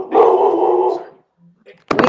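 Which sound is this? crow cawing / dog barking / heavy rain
dog barking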